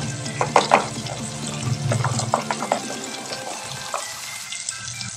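Garam masala and red chili powder fry with soft tomatoes in a pan for pumpkin curry, sizzling steadily while a spoon scrapes and stirs in irregular bursts up close.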